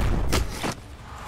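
Two quick gunshot-like bursts, about 0.4 seconds apart, fired in the steampunk tactical strategy game Shardpunk Verminfall; loud and close, with no talk over them.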